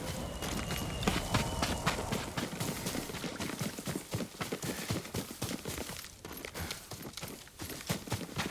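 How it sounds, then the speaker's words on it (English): A horse's hooves in the video game Ghost of Tsushima, rapid rhythmic clip-clop of a galloping or trotting horse over a constant ambient bed, close and sustained with a brief dip partway through. "Yuriko's horse."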